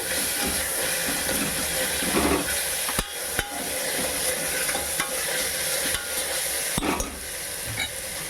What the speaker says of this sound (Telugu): ఇందులో కాస్త ధనియాల పొడి వేసుకోవాలండి వేసుకొని బాగా కలుపుకోవాలి